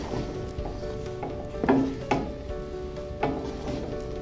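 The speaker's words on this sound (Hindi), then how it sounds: "अब इस टाइम पे मैं आधा कप घी और डाल रही हूँ।" Ghee poured into a pot of chana dal halwa, quietly hissing and sizzling, with a few soft scraping stir strokes and light knocks spread across the clip, no voices.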